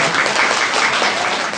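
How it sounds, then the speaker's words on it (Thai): Dense, steady applause from an audience at a Songkhla amateur radio association meeting, welcoming a speaker, loud and continuous through the whole short clip. "ขอปรบมือคุณภูเบศนะครับ"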